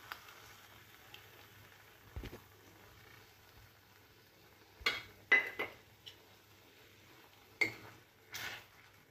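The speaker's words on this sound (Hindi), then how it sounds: "अब मलाई हमारा अच्छे से मिक्स हो गया है।" Malai cream being stirred into a browned onion masala in a pan; a quiet, sparse scrape and clink of a spoon against the pan, with a few brief louder knocks near the end.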